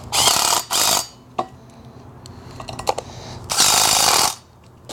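An Allen wrench tightening a bolt on a 422SB swing assembly, with loud close ratcheting bursts at the start and end and quieter metallic clicks and taps between them, no voices.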